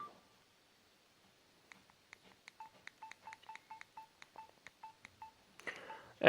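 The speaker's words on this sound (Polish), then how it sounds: "bardzo mięciutko się tutaj naciska nasze klawisze" Keypad buttons pressed on a Samsung S3550 Shark 3 phone, a string of about a dozen short, clean key tones in quick succession, followed by a brief rustle of handling at the end.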